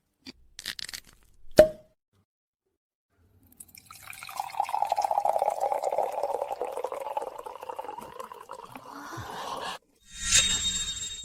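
Wine poured from a freshly opened bottle into glasses at a wedding reception, a steady liquid stream running for several seconds after a sharp click, with a brief clink at the end.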